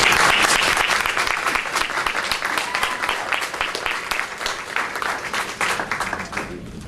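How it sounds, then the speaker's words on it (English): Loud, dense audience applause at a high school athletes' signing ceremony, sustained clapping from many hands that stays strong and tapers slightly toward the end. "So a big round of applause for Taylor."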